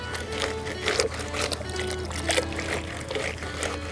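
Stockings are scrubbed by hand in water, with wet rubbing and sloshing strokes in an uneven rhythm, close and moderately loud.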